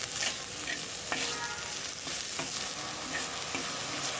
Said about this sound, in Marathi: थोडं 1 मिनिट आपण याला परतू देऊया